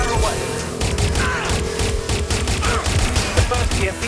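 Rapid gunfire rattles through the Watch Dogs: Legion boss fight with Nigel Cass, a dense, loud stream of shots layered with game effects and faint electronic tones, continuing without pause.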